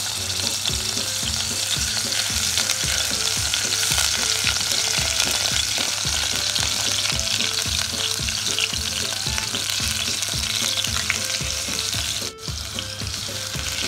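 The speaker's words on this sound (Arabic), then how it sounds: "حطيت الحله وفيها حبه زيت، واحط حته التومه" Garlic fries in oil in a pot for an Egyptian koshari sauce, a steady dense sizzle that holds without pause, with music running underneath and no voices.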